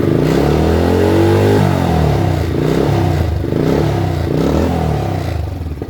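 Honda Grom motorcycle fitted with a Brute Zoom exhaust, revved hard a couple of times up close, the engine note rising and falling loudly and continuously with no talking.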